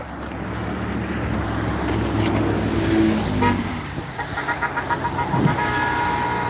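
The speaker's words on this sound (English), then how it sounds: "I don't know if you guys heard that horn honking." Traffic rumbles steadily during an ice storm, and a series of short car horn toots sounds from a passing vehicle partway through, with road noise continuing throughout.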